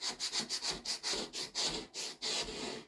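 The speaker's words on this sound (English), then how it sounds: "But this scraper gets off the chalk." A hand scraper rasping chalk off a wooden sign in about a dozen quick back-and-forth strokes, close and steady, with no talking.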